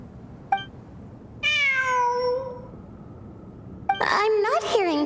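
A cat meows inside the Genshin Impact video game, two drawn-out mews clearly heard amid short clicks, with a voice speaking near the end.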